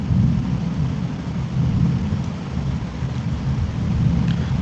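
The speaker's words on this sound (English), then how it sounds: "it bobs with each downpour, letting the viewer feel the storm's impact on our fragile vessel" Animated thunderstorm at sea with heavy rain hissing steadily and low thunder rumbling in rolling waves, continuous and fairly loud, with no voices.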